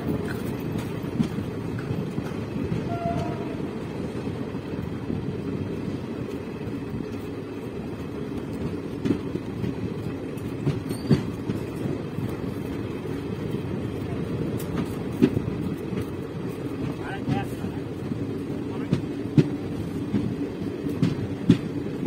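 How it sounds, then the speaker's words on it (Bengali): The Bhagirathi Express, train 13104, departs Berhampore Court station as a steady low rumble with occasional clanks and knocks, heard from on board, while people talk in the background. "আর ট্রেনে ছাড়ার সময় হয়ে গেছে, তো দেখা যাক বহরমপুর থেকে ডিপার্চার।"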